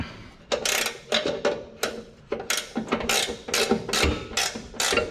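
A small car jack being lowered and pulled out from under a vehicle after crossmember hardware is installed, giving a run of repeated metallic ratcheting clicks and clanks in a steady rhythm, close and fairly loud, with no talk.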